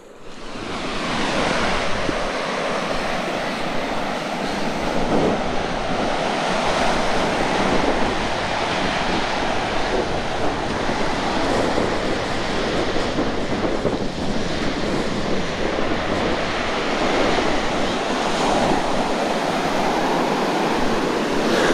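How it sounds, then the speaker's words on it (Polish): Strong wind blows at the Baltic beach in Mrzeżyno, a loud, unbroken roar of gusts buffeting the microphone over steady crashing surf. "No wieje mocno"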